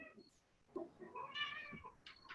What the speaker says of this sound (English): And you have a very cute cat.